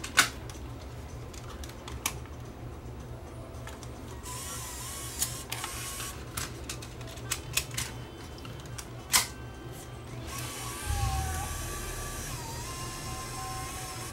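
A failing tape mechanism in a Panasonic PV-DV900 camcorder makes quiet, sparse mechanical clicks and ticks over a faint motor whir, ending in a louder low whirring grind near the end.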